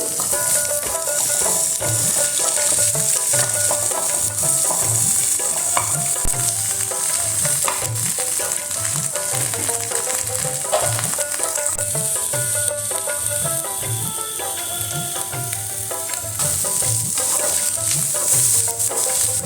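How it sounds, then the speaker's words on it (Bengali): Egg and vegetable fried rice ingredients with chopped onion sizzling in a pan, a loud continuous fry hiss with regular scraping stir strokes of a spatula repeating steadily throughout. "এগুলো সব আবার একটু ভালো করে ভেজে নেব"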